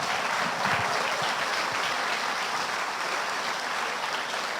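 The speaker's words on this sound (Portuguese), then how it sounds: "Aplauda ao rei com alegria" A church congregation applauds together, producing a dense, sustained wash of clapping from many hands that holds steady at a fairly even loudness from start to finish.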